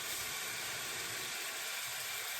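Beef broth from a 14.5-ounce can is poured slowly into a hot pan, making a steady, broadband sizzling hiss that stays even and fairly loud for several seconds with no talking.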